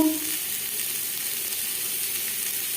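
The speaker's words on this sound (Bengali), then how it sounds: "এক চামচ সরষার তেল দিয়ে দেবো আলু আলু ভেজে নেব" Potatoes frying in a spoonful of mustard oil give off a steady, even sizzle and hiss, close by and moderately quiet, with a faint clink at the very start.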